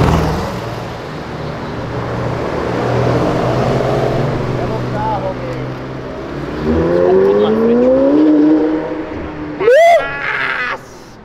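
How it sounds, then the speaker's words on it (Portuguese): An orange McLaren sports car accelerates hard along a city avenue, its engine roaring loudly and rising in pitch through the gears, with a sharp rev near the end and people talking over it. "É uma McLaren, esse setup que eu nunca vi igual. Acelerou tudo."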